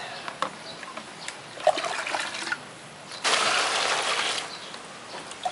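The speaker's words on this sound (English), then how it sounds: "and then you pour water on it." Water poured onto paper in a container to soak it for making paper briquettes, heard as a close, steady rushing pour with splashing that begins partway through after quieter trickles and dribbles.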